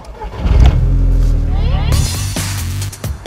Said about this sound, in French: Son moteur plutôt discret à bas régime se met à grogner et souffler de façon impressionnante lorsqu'on le sollicite.